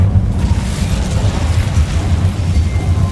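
An Incendio fire spell bursting in Hogwarts Legacy, a loud, sustained roaring rumble with a heavy low end that keeps churning steadily for a few seconds without any talk.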